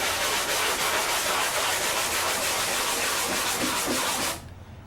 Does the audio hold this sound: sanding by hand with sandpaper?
yes